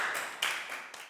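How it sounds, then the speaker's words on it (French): A classroom breaks into applause, with a few quick bursts of light clapping in a dense, brief patter. "On applaudit Fabiola, on applaudit Zalika."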